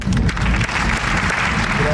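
Applause fills the space throughout, a steady wash of clapping from a small group, fairly close and even in level, with a voice faintly mixed in beneath.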